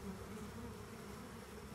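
Honey bees (Apis cerana) buzz in a steady, dense drone that holds at an even loudness throughout, with no voices.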